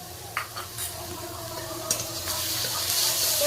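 Ginger and garlic paste being stirred into frying onions in a pan for an egg korma, with a low steady sizzle, a few light scrapes, and a brighter hiss building toward the end.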